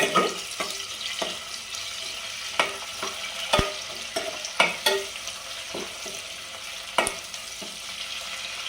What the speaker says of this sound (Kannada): ಆನಿಯನ್ ಹಾಕೊಳ್ಳೋಣ. ಇದು ಸ್ವಲ್ಪ ಫ್ರೈ ಆಗಲಿ.